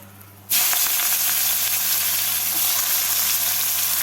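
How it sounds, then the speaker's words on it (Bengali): Chopped onions hit hot oil seasoned with nigella seeds and green chilies, erupting into a loud, close, continuous sizzle that holds steady without talk. "পেঁয়াজটাকে ভেজে নেব"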